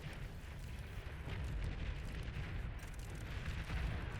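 Sniper units in the strategy game Beyond All Reason firing during a large 5v11 battle, a dense rumbling wash of distant booms and blasts layered under continuous low battle noise, with no talking.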